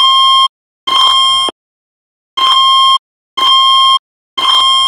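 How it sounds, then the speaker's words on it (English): Fire alarm blaring in a campus residence in the early morning: loud, harsh buzzing tones in five evenly spaced bursts with sharp silent gaps between them, no voices. "the fire alarm goes off at 4:20 in the morning. This mess is blaring."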